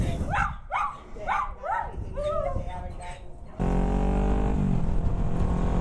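Several dogs bark and yip at a home kennel with puppies, sharp repeated barks in the first few seconds, then a sudden loud, steady engine-like rumble takes over as the dogs fade under it.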